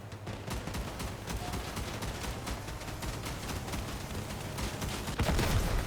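Rapid gunfire in the Crossout vehicle combat game, with dense, continuous volleys of shots crackling throughout and a louder burst near the end.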